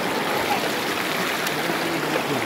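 River water in Nueva Ecija rushes and burbles steadily, a continuous close hiss of flowing current with no voices.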